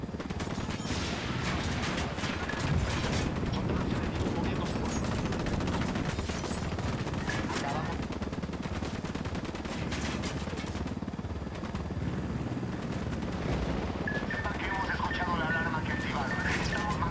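Gunfire in Ghost Recon Wildlands crackles in dense, sustained bursts within a loud, busy game mix of combat noise, with voices talking over it throughout.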